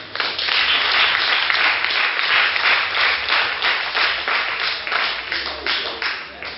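An outdoor festival crowd claps steadily for a nine-year-old young performer, a loud, dense wash of applause with rhythmic pulses sustained throughout.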